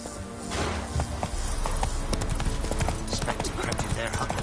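Hooves of a horse in the video game The Witcher 3 clatter in a quick, steady rhythm throughout, loud and close, mixed with in-game ambience.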